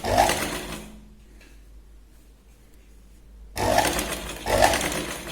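A sewing machine sews a double stitch on a Katori blouse in two close, loud bursts of rapid stitching separated by a quiet pause with faint handling sounds.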